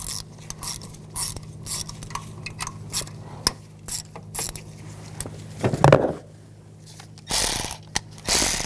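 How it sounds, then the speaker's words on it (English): A ratchet with a 10mm socket backs out ignition coil bolts on a 2014-2018 GMC Sierra 1500 5.3L V8, short rhythmic clicking bursts close by, followed by a few louder metallic knocks near the end. "Using a 10mm socket, we want to take these bolts out for the coils."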